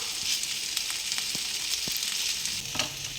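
Potatoes and masala sautéing in a pan for a green peas potato curry, with a continuous close hissing sizzle and occasional faint ticks from stirring.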